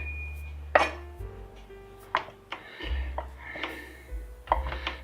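A knife slicing cold cooked food on a board for keto gravy, several sharp separate cuts and taps at an uneven pace against a low background hum.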